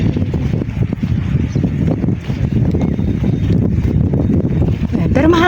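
Strong wind buffets the microphone with a constant low rumble, and a faint voice or whistle-like tone rises briefly near the end.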